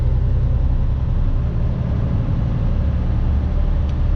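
Inside a car crawling through traffic in a construction zone on the Mass Pike, a constant heavy low engine and road drone fills the cabin, steady and loud with no talking.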